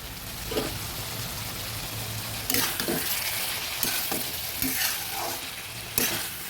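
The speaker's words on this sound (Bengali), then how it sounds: "ভালো করে মশলার মধ্যে আমি ছোলা সয়াবিন এবং আলুটা ভেজে নিলাম" Chickpeas, soya chunks and potatoes fry in spices in a pan, giving a steady close sizzle with several louder bursts of stirring and scraping, no talking.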